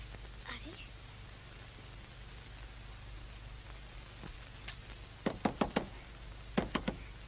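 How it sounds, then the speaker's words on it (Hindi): Two quick bursts of firm knocks on a door, three or four raps each, ring out near and clear over steady background hiss, with a faint voice earlier. "लीलो, दरवाजा खोल"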